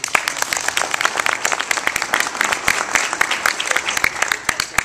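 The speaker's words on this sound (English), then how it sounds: "Thank you for the applause" Applause from a morning business-event audience, a dense patter of many hands clapping steadily at close range with no voice over it.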